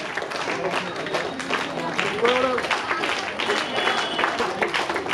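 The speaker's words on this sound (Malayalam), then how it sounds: "കൈയടിച്ച് പ്രോത്സാഹിപ്പിക്കുക" An audience at an award ceremony in a city auditorium claps steadily, with the applause continuing under a voice speaking over it.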